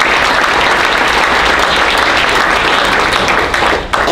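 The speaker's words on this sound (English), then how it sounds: "Can we please give a round of applause for them?" A room of attendees at a general membership meeting gives a loud, continuous round of applause, dense clapping that holds steady and fades slightly at the very end.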